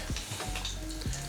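An egg fries in a pan for a black pudding hash, giving a close, steady sizzle with small crackles and pops throughout.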